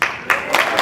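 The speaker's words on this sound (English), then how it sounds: "We're clapping because of the calls your office did not get." Audience applause at a professional development meeting: a steady wash of many hands clapping with a few louder bursts, heard close and filling the short moment.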